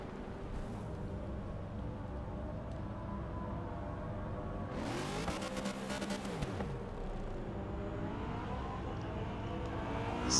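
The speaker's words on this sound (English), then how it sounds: "this first lap they're going to be on their warm-up laps here" V8 Supercars race cars on a warm-up lap during a qualifying round, engines droning steadily throughout, with one car swelling loud as it passes close by in the middle before the noise settles back to a continuous distant hum.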